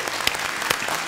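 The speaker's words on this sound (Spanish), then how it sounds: "un aplauso grande para el profesor" A short burst of audience applause for a professor at a book event, a wash of overlapping claps with a couple of sharper hits standing out.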